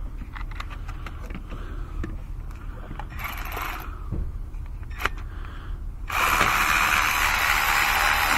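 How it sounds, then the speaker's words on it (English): An electric ratchet loosening a bolt on a 2006 Honda Odyssey with a 3.5 i-VTEC engine, a steady mechanical whir with a few faint clicks that ends in a loud, sustained burst of high-pitched motor drive, close by. "Let's see if I can get my ratchet on this bad boy,"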